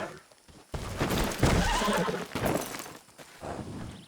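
Horse in the Red Dead Redemption 2 video game crashing and letting out a loud, drawn-out neigh, with clattering hooves and impact noises rising and falling over several seconds, no speech.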